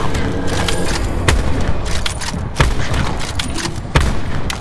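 Gunfire from a weapon in Call of Duty zombies on the Blood of the Dead map, sharp bursts of shots popping over a loud, busy game background, with several distinct cracks standing out.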